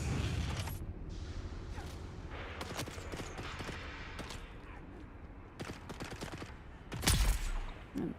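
Gunshots ring out in Dune Awakening, a scattered run of sharp cracks of varying loudness with one heavy blast near the end, set against faint background noise and occasional speech.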